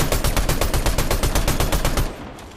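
Rapid automatic gunfire from a Fortnite match rattles off in a steady burst of about twenty evenly spaced shots, loud and close, then stops abruptly, leaving a quieter tail for the final half second.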